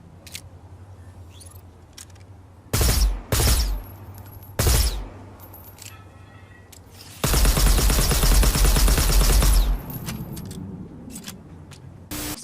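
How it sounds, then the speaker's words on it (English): Selective-fire gun in the Cyberpunk 2077 video game: loud short bursts around 3 and 4.5 seconds, then a sustained full-auto stream of about two and a half seconds, over a low steady game background hum. "This is slow burst if you hip fire it, faster burst if you aim down sights, and if you hold it down, you can go full auto."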